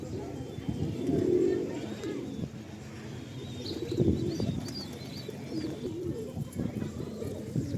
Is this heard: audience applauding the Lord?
no